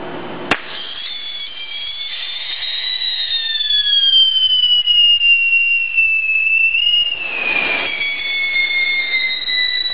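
Whistle Pete firework fountains let out a sharp pop, then a loud, sustained shrill whistle that glides slowly downward in pitch for several seconds, with a second burst near the end.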